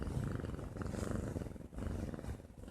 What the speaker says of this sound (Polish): o czym świadczy to mruczenie